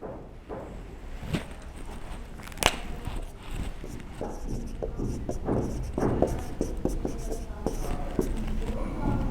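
Chalk or marker scratching on a board during a lecture, in short irregular strokes and taps, faint beneath a teacher's continuous speech.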